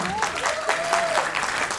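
Applause for a guest at a school annual function, a crowd clapping steadily while a voice talks over it.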